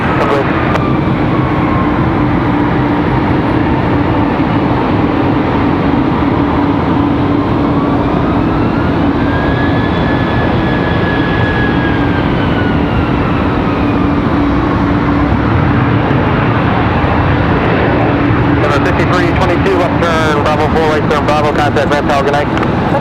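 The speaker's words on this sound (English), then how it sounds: "That's what you guys are hearing right now, that A220." A Delta Airbus A220 airliner moving at Raleigh-Durham airport, a loud steady jet engine roar and whine that slowly shifts in pitch, continuous and near, with crackly wind noise toward the end.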